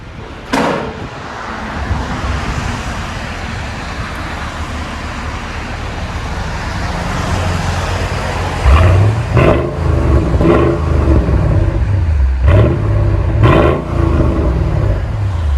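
A 2006 Mercedes CLS 550 Bi-Turbo AMG with dual exhaust and a resonator delete revs close by. Steady idle rumble gives way to several sharp, loud throttle blips with rising and falling engine tones.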